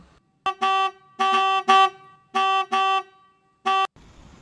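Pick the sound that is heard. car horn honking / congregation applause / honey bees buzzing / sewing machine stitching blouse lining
car horn honking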